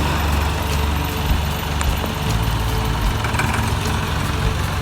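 Tractor engine idling close by, a steady low rumble with a slightly uneven chug and faint clicks over the top, no voices.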